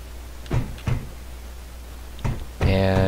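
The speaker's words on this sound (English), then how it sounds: "close that door." A sliding door closes in the video game Space Engineers, a short mechanical slide and thunk near the end after a few soft knocks, with no talk over it.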